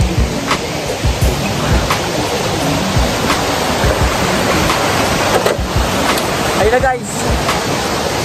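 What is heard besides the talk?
waterfall rushing, Dinggalan Aurora cold falls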